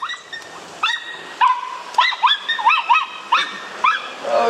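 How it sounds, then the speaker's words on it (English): A dog barks and yips repeatedly nearby outdoors by a road, a string of sharp, bright calls with short gaps, some whining rises mixed in, and no talk over it. "Sorry about my dog barking."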